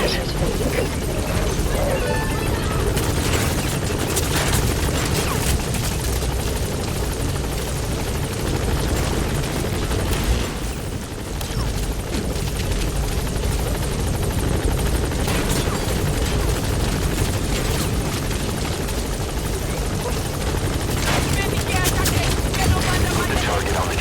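Helicopter in Metal Gear Solid V: The Phantom Pain hovering at a landing zone, a loud, steady rotor drone filling the whole stretch, with voices talking over it.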